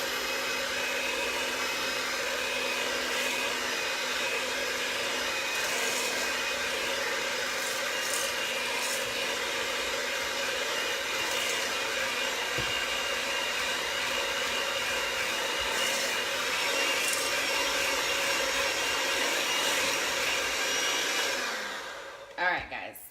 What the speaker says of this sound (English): we're just gonna whisk this together